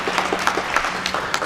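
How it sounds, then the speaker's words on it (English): A small group at an executive dinner claps for a speaker's 39-year marriage. Scattered, separate hand claps are heard close by in a brief burst. "Round of applause, 39 years."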